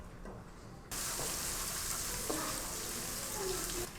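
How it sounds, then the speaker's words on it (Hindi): A sudden loud sizzle starts as garlic paste hits hot oil, then crackles and hisses steadily, with faint clinks of stirring. "लहसुन के पेस्ट को हमने हल्का सा ब्राउन कर देना है।"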